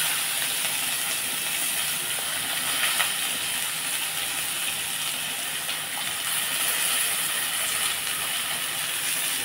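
Onions and green chilies sizzle in oil in a home kitchen, a dense, even frying hiss that holds steady and loud from start to finish with no voices over it.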